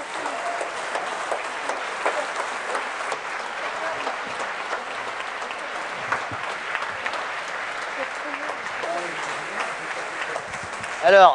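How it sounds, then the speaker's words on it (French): Sustained applause from a gala concert crowd, dense and even, continuing steadily for several seconds before a brief louder burst at the end. "Allez recevoir des applaudissements plus que mérités."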